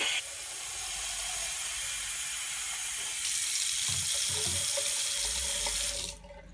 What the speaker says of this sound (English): You will add an inch or an inch and a half of water at the bottom of the reservoir to weight it down so it doesn't spill.